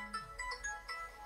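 A mobile phone ringtone plays quietly, a short run of bright electronic notes pulsing in a quick, regular pattern.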